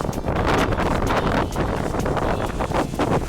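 Wind on the Lithuanian coast near Klaipėda buffets the microphone in loud, close, gusting roars that surge and ease over several seconds, with no voices heard.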